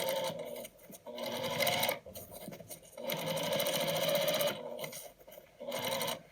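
A sewing machine top stitching 1/8 inch from the edge of a fabric patchwork basket, running in five short bursts of rapid, even stitching separated by brief pauses.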